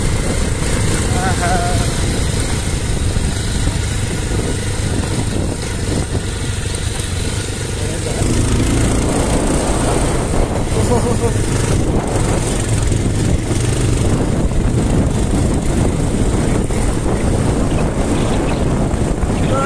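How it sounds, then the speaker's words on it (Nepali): Motorbike ride at speed on a village road near a dam in Lwang, Kaski, with loud steady engine drone and heavy wind buffeting across the microphone throughout. "यति बेला हाम्रो बाइकको गति चाहिँ एकदम बढेको छ।"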